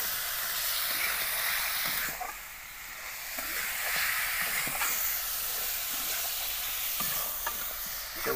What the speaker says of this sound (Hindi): तो भाई चिकन बन रहा है